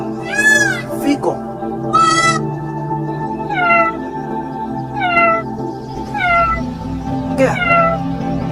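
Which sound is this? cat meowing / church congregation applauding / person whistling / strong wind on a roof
cat meowing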